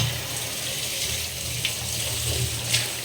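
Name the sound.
water being taken from a clay pot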